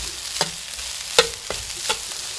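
Rice being stir-fried in pork lard: a wok or pan scraped by a spatula in a few scattered strokes over a faint steady sizzle, close and moderately loud, with no talking.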